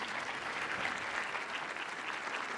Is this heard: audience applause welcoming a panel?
yes